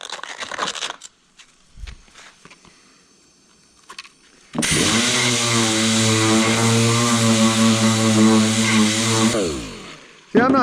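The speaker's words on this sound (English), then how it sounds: "grab my DA sander, 6-inch pad, got some 80 grit" A DA sander with a 6-inch pad and 80-grit paper starts up and runs on wood from a rocking chair, a loud steady whine and rasp after a few quiet handling clicks, then spinning down.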